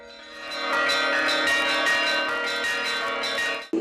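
Twelve church bells ring loudly and continuously, overlapping in a rich, sustained peal with steady strikes, then cut off abruptly at the end.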